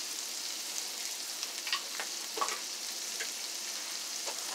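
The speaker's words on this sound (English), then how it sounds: "Now into here I'm also going to add my potatoes and cauliflower." Potatoes and cauliflower sizzle in a pan with adobo seasoning and salt, a steady soft hiss with occasional faint crackles and stirring taps, no voices.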